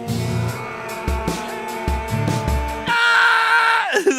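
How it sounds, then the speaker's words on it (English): A gritty fry scream sits in the background of a music track, strained and rasping under bass-heavy, pulsing instrumentation, with a sustained, brighter vocal passage taking over near the end before a quick sliding drop. "A little kind of like a fry scream in the background."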